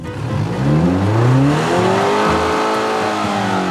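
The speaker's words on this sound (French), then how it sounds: "Il y a une bielle en dessous qui grelotte, clac clac clac clac, c'est un 3 cylindres, une Triumph" A Triumph three-cylinder engine with a rattling connecting rod runs loudly up close, its revs climbing and then holding in a steady droning whine.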